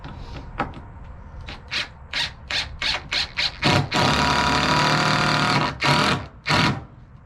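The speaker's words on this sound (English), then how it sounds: "I'll just run some screws down it." Power drill or impact driver running screws into a wooden shelter for feeder pigs, a string of short bursts followed by one long sustained run and two more quick bursts, loud and close with no talking.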